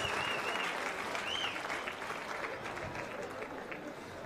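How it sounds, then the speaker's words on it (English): Audience at a Zambian independence anniversary ceremony applauding steadily, a dense continuous patter of many hands with faint voices and a few whistles over it. "let's give him a round of applause"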